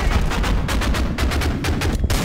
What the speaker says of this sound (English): Did you hear that weapon? It's crazy.